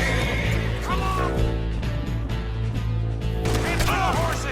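Loud horse whinnies from Red Dead Redemption II ring out over busy game sound and hooves, one neigh early and a burst of shrill whinnying near the end, with low rumbling underneath.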